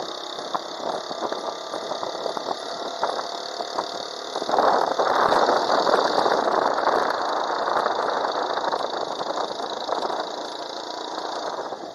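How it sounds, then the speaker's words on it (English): A light motorbike towing a small trailer rides along, its engine droning steadily and close throughout, growing louder and rougher partway through as it picks up speed, with no voices. "That light motorbike with little trailer behind it."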